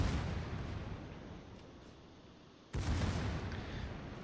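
Warship secondary guns fire in World of Warships. The clip is a heavy roar of booming rounds that fades and then surges back with a sharp, loud blast partway through, with no talking.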